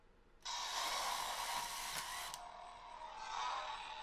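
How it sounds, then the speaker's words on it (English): The motor of a Power Saber retractable lightsaber runs as the blade extends, a steady high mechanical whir lasting a few seconds that shifts pitch partway through, close and fairly quiet, with no talk. "most of the sound is that motor."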